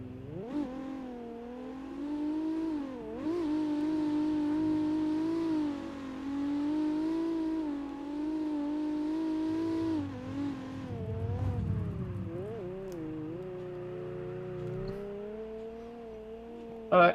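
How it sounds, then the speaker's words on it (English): A diesel truck engine in CarX Drift Racing Online whines and revs through all-wheel drive donuts, a steady droning tone that rises and dips repeatedly over about seventeen seconds, with no talk. "All-wheel drive donuts in a diesel K truck."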